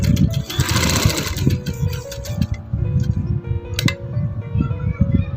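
Sewing machine stitching a lace strip onto a fabric hem, a close, steady rapid mechanical thrumming with a brighter rattling burst near the start.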